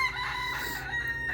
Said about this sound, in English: mind Mr. Rooster in the background